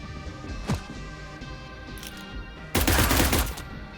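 Gunfire in the Cyber Knights Flashpoint video game: a low background of game ambience with a sharp early shot, then a loud, dense burst of automatic fire near the end.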